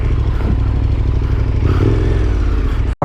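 A KTM 1290 Super Adventure S motorcycle crossing off-road, its engine droning loud and close with rough clattering and scraping, then cutting off abruptly at the end.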